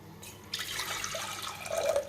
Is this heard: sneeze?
no